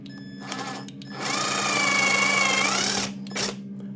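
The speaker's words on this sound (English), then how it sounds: "Drill my little pilot holes here." A power drill whirs in a steady burst of about two seconds while drilling pilot holes in a guitar, with brief short revs before and after, close by against a constant low hum.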